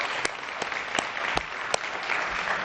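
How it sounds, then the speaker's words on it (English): New citizens at an allegiance ceremony clap together, a steady wash of applause with a few sharper individual claps standing out, fairly close and continuous throughout. "why don't you give yourselves a round of applause for that accomplishment"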